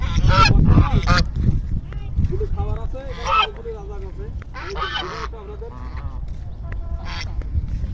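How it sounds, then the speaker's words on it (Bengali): Ducks on a duck farm in Satkhira quack and honk in loud bursts, with several birds calling at once close by, while someone talks over them. "আমার সাথে অনেক হাঁস আছে এখানে"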